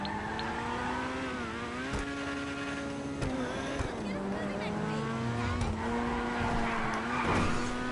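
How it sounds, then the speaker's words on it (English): A car drifting around a corner at speed in GTA V, with a steady revving engine, tire squeal and skidding throughout, close and loud, while a voice talks over it. "It's pretty frisky on the drift."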